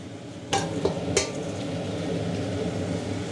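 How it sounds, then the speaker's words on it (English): Pancetta going into a pasta sauce base in a pan, with a soft, steady sizzle underneath and two sharp clacks of a utensil being stirred through, close and with no talking. "We'll put in the pancetta, and then the pasta will be ready to get tossed in."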